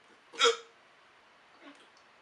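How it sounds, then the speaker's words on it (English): A person hiccups once, loud and close, followed later by a much fainter second hiccup, in a quiet room with no talking. "You ever have that when you eat bread and you hiccup?"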